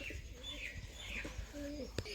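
Pigeons coo softly in a loft, low repeated throaty calls over a busy outdoor background with a few higher chirps from other birds and faint distant voices.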